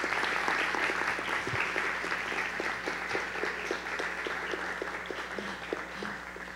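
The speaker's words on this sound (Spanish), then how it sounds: "les pido por favor fuertes aplausos para ellos" Strong applause greets two guests introduced at a radio creativity talk, a sustained crowd of hands clapping at a steady level with individual claps standing out, tapering slightly toward the end.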